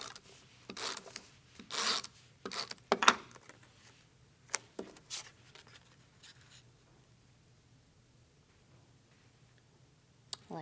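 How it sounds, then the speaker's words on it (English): Mini tape runner applying adhesive to join two paper panels for a card, faint intermittent scratchy rubs and short rasps in several quick bursts, then trailing into near silence. "I'm going to grab that mini tape runner and I'm going to tape these two pieces together"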